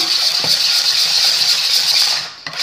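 A whisk beats crème brûlée mixture in a bowl with a fast, continuous bright metallic rattling scrape, close and loud, ending in a brief clink, no speech.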